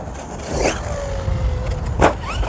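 A Hobao MTX 6S 8th-scale RC monster truck drives and jumps, its motor whining and rising in pitch as it accelerates and launches, with a sharp burst near the end, close and fairly loud, no talking.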